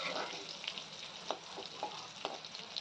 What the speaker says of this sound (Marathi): मिरचीचे तुकडे घालून घ्यायचे आणि मिरची व्यवस्थित परतून घ्यायची आहे